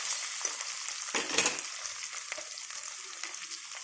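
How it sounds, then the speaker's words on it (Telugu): Potato pieces stirred in a hot pan, a steady oily sizzle with short scraping bursts of the spoon, strongest near the middle, close by and without talk. "ఇలా పొటాటోస్ వేసుకొని కొద్దిసేపు కలపాలి"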